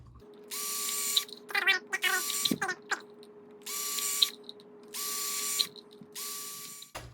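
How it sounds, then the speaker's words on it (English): A power drill whirs in several short bursts, each a few seconds long, drilling holes in a plastic bottle, with brief handling clicks and rattles between them, close up. "just drill some holes around"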